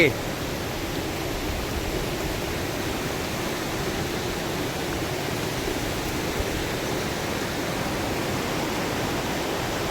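Fast, forceful water of a waterfall at Tat Ton National Park in Chaiyaphum pours in a steady, broad roar that never lets up, fairly close and even throughout, with no talk over it.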